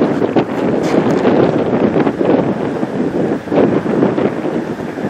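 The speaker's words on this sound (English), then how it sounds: "Man, that wind is getting it. Wow. Tough wind." Strong wind buffeting the microphone on an outdoor disc golf course in Lamesa, Texas, a loud continuous rumbling roar that swells and eases in gusts, with no talking.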